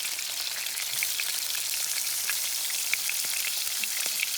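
Beef tenderloin sears in a hot pan with butter, giving a steady, close sizzle with scattered small crackles and pops throughout, no talking.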